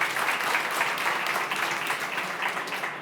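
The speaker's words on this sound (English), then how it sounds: "A warm applause for Andreas." Steady applause from a conference audience after a talk, dense clapping sustained throughout without a break.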